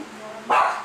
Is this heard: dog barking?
yes